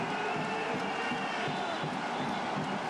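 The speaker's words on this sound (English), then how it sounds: "this crowd has done a fine job creating an atmosphere here" Basketball arena crowd at a FIBA final, Elan Chalon versus JSF Nanterre, keeping up a steady dense roar of cheering and chatter throughout with no breaks.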